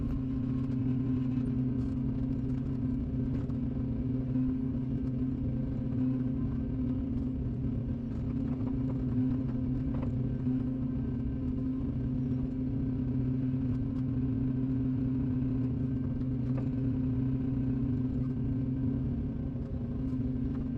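An excavator digs and moves mud while clearing a fish pond, its engine a steady, close, low diesel rumble that holds without a break, with no talk.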